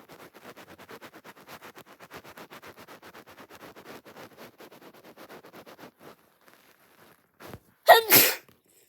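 Repeated sneezing brought on by tickling the nose with a twisted paper string: a long run of soft rhythmic sniffs and breaths, then a couple of sharp, loud sneezes bursting out near the end.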